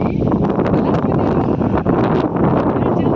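Steady, loud wind buffets the microphone outdoors beside a village irrigation canal, a continuous rough rush with no spoken words.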